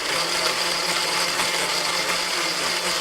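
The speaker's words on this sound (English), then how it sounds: "closing his eyes at the sound of the blender whirring." A steady, loud blender whir runs without a break, a dense continuous motor roar with no voices.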